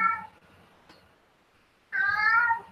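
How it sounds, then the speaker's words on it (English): A house cat meows twice nearby, with a short cry at the start and a longer, drawn-out meow after a quiet pause, alone and fairly loud indoors. "The cat."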